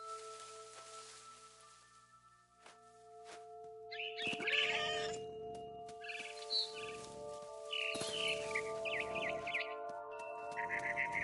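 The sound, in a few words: cat meowing in the video game What Remains of Edith Finch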